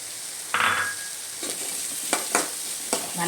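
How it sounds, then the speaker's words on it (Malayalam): Washed small shallots and a sprig of curry leaves drop into hot oil with a sudden loud sizzle, then settle into steady frying crackle broken by a few stirring scrapes in the pan. "കഴുകി വൃത്തിയാക്കി എടുത്ത ചെറിയ ഉള്ളി ഇതിലോട്ട് ഇട്ട് കൊടുക്കാം. ഇതിലോട്ട് നമുക്ക് ഒരു തണ്ട് കറിവേപ്പിലയും കൂടെ ഇട്ട് കൊടുക്കാം."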